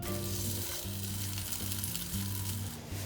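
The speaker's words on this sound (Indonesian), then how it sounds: "Add the sausage, oyster sauce, salt, and stir fry until the spices are absorbed." Sausage sizzles loudly in a pan with oyster sauce and salt while being stir-fried, a dense, constant frying hiss with repeated scraping strokes of the spatula.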